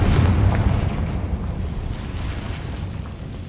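A Confringo blasting spell explodes in Hogwarts Legacy, a loud, deep booming burst at the start that rolls into a sustained low rumble and fades gradually over a few seconds.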